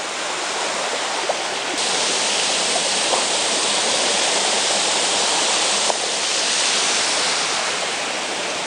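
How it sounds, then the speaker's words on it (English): Upper falls of a waterfall pouring in a steady, loud broadband roar, heard up close and unbroken throughout with no voices. "So I've kind of hiked up the hill to these upper falls, and they're actually really impressive."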